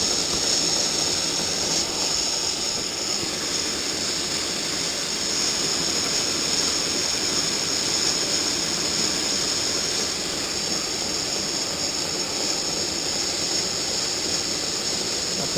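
Steady, loud hiss and roar of the blower running on an Aster Berkshire live steam locomotive, continuous and even throughout with no talk.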